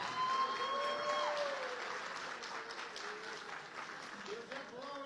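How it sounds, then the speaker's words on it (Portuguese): A church congregation applauds steadily, with a voice speaking in Portuguese over the clapping. "E receba esse aplauso aí."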